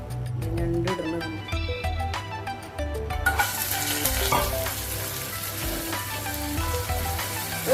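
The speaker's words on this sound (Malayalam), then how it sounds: "ഈ നെക്സ്റ്റ് നമ്മൾ ഞണ്ട് വറക്കാൻ പോകുന്നു. ഞണ്ട് ഫ്രൈ." Crab pieces coated in masala sizzle and fry loudly in a hot pan, a steady dense crackle that swells as more pieces go in.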